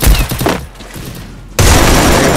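Loud gunfire in a battle royale video game: a burst of rapid shots, a brief lull, then a sustained, dense barrage of automatic fire close up.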